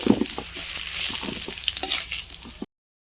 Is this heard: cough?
no